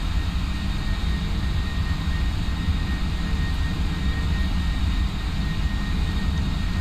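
Steady, loud jet roar of a PMDG 747-400F cargo airliner accelerating down the runway on its takeoff roll in the Prepar3D flight simulator, a continuous broadband rumble with no talk.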